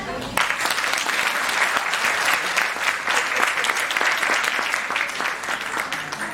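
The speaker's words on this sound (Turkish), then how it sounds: "Alkışlar." Applause at a concert ceremony where plaques and flowers are presented, a dense burst of clapping starting sharply and sustained steadily throughout.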